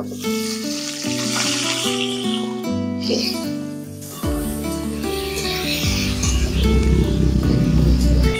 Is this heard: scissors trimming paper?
no